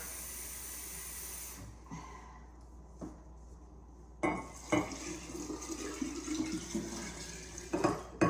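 Water pours into a glass jar for making water kefir, starting as a quiet steady trickle, then stopping before a louder, splashy fill resumes with small clinks, close and alone in a quiet kitchen.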